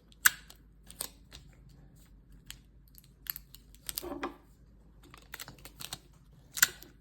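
Tape is handled and pressed onto a folded paper origami heart, giving sparse, faint crinkles, taps and sharp little ticks scattered over a quiet background.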